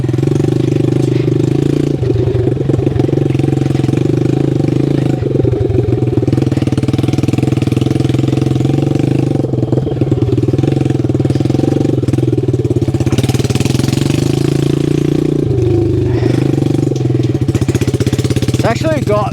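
A 1969 Honda CD90Z motorcycle engine runs steadily throughout in a Tasmanian forestry area, a continuous buzzing drone with slight surges, while a rider talks over it.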